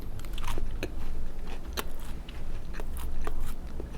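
A French almond, sugar and flour candy crunches as it is bitten and chewed, with repeated sharp crackly crunches close to the mic in an irregular rhythm and no talking.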